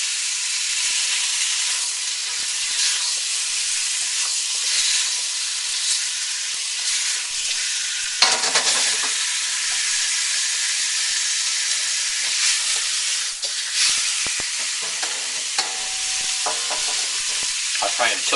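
Pork spareribs stir-fry in hot oil in a wok with a dense, continuous hiss and sizzle, broken by scraping and stirring clatter as the pieces are tossed, loud and close throughout.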